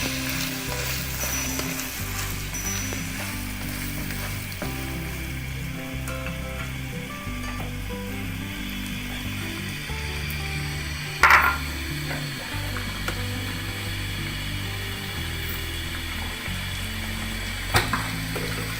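A large onion sizzles and fries in a pan for keema with shimla mirch, a steady crackling hiss with stirring scrapes throughout and a couple of sharp utensil clinks.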